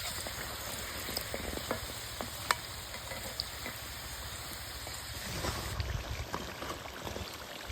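Chicken samosas frying in hot oil give a steady, close sizzle with scattered small pops and crackles, growing slightly louder and busier near the end as they are turned.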